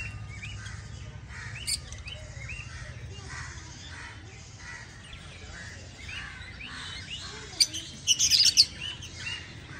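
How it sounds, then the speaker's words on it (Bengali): Birds chirp and call around a garden, soft tweets scattered throughout with crows cawing, and a louder burst of chirping near the end. "পাখিগুলোর আওয়াজ শুনে খুব সুন্দর"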